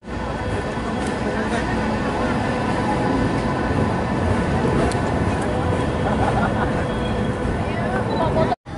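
A train pulling into a station in Germany, a steady loud rumble and rail hiss that holds for the full length, with voices murmuring faintly underneath.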